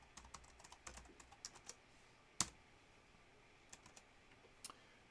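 A password goes in on a computer keyboard as a short run of quiet, close key clicks with one sharper tap partway through, all in a near-silent room.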